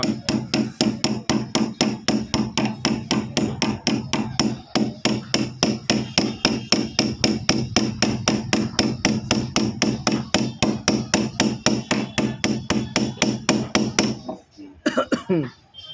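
A big nail is driven with a hammer in a long run of steady, sharp metallic blows, loud and close at a regular quick rhythm, ending with a few scraping handling noises.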